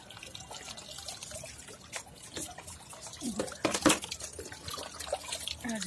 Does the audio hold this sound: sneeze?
no